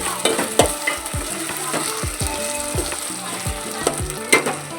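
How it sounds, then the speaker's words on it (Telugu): Onions sizzle in hot oil with ginger garlic paste for a ridge gourd curry, a steady close frying hiss broken by repeated sharp scrapes and taps of a spoon stirring against the pan. "అల్లం వెల్లుల్లి పేస్ట్ బాగా వేగాలి"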